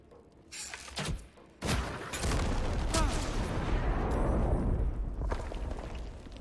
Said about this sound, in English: Then, I can fire at this thing